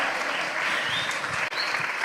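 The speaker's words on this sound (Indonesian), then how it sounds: "Kasih tepuk tangan yang meriah dong." University students at Unitomo in Surabaya give lively applause after a speech by Ganjar Pranowo, a continuous, even wash of many hands clapping at moderate volume.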